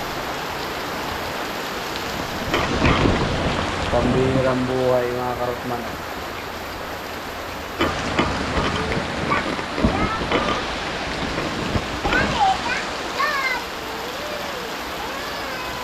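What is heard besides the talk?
heavy rain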